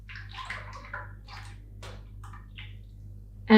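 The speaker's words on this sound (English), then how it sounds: "I've got 600 milliliters of heavy cream, heavy whipping cream. I'm gonna pour that in." Heavy whipping cream, about 600 ml, poured into a bowl for topping a cake, giving soft intermittent splashing glugs close by with a sharper knock at the very end.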